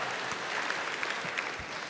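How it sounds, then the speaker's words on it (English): Audience applause fills a room at a stand-up comedy show, a steady dense patter of clapping hands that holds evenly throughout, close and moderately loud with no clear voices over it. "Really applauded."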